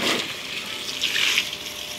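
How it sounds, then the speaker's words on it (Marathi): Garden hose spraying water outdoors onto plants and soil, a soft, continuous watery hiss and splash close by with slight swells in loudness, no speech. "लावली ती नळी तर इकडे बाहेरही मारून घेऊ."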